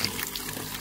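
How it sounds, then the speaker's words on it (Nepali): Naturally flowing water runs in Ghandruk village, a close, brief splashing trickle like water pouring from a spout, moderately loud and alone. "यहाँ चाहिँ पानी हेर्नु अब नेचुरल्ली बगेको पानी यहाँ जति पनि छ"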